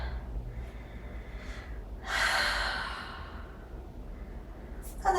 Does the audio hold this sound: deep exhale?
yes